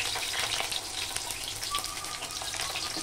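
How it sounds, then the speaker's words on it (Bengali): Sliced onions fry in hot oil, a steady, close crackling sizzle with bursts of spitting and splattering oil throughout. "এবার দিয়ে দেবো পেঁয়াজগুলো। এবার খুব তেল ছিটাচ্ছে।"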